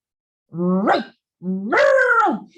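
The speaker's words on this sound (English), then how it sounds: "Meg was growling and barking at the hedge right beside the tent" A dog outdoors beside a tent, making two loud, close, drawn-out vocalisations with a rising and falling, growl-like howling tone.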